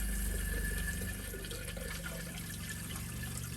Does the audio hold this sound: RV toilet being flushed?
yes